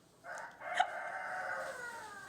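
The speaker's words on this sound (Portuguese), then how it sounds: "esse galo tá de sacanagem comigo" A rooster crows outdoors, one sustained, strained call rising and holding steady before fading, close and fairly loud with no talking.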